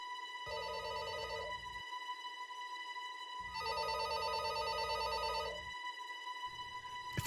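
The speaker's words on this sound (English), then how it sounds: "the phone rang again" A telephone rings in a hotel room at night, two long electronic ringing bursts separated by a pause, followed by the start of a third, loud and clear with no other sound.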